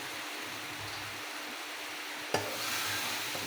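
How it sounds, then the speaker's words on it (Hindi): Okra goes into hot spiced oil, a broad steady sizzle with a sharp clack of a utensil partway through and stirring after, no talk. "अब इसमें मैं बिस्मिल्लाह करके डाल दूँगी भिंडी"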